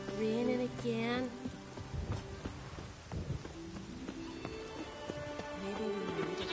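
Steady rain patters throughout in the video game Witcher 3, faint and soft beneath tonal music and occasional voices.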